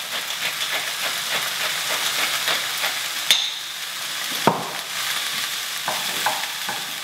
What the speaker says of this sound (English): Now we'll seal those make sure all the vegetables get a nice coating of oil.